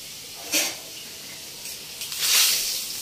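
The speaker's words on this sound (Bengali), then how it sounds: "আলুটা মনে হয় ভাজা হয়ে গেছে, দেখো।" Potatoes frying in a pan, a quiet background sizzle broken by two short hissing bursts, one early and a longer one near the end, close by with no talking.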